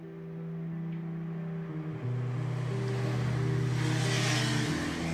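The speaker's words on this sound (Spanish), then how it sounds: "de fondo escuchamos autos, como si se tratase de una ciudad" Car traffic sound woven into an experimental song, a broad rushing wash like passing vehicles swelling louder toward the end over sustained low synth tones.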